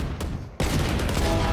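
Gunfire in the video game Valorant: a sharp shot starts a dense, steady fusillade of rapid, medium-loud fire that holds to the end.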